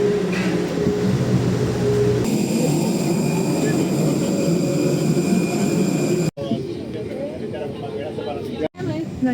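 Steady broadband airliner cabin drone on a short flight, loud and continuous with a brief dropout near the end, voices faintly present underneath.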